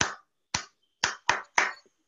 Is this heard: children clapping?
yes